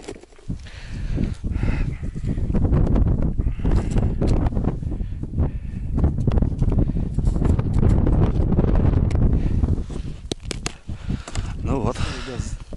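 Gusting wind buffets the microphone outdoors on a frozen lake during winter pike fishing with tip-ups, a loud rumbling roar that swells and fades while someone talks over it.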